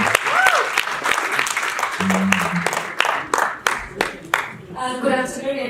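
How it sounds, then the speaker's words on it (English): Audience applause fills a conference hall at an international engineering students' event, a dense burst of many hands clapping that thins into scattered claps, with a voice briefly over it near the start and another voice at the end. "Applause, ladies and gentlemen."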